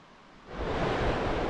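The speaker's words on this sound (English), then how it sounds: "there's nothing quite like the sound of the waves lapping the shore" Waves wash onto the shore at Trimingham Beach in North Norfolk, a soft hiss that swells quickly into a fuller, steady surge of surf.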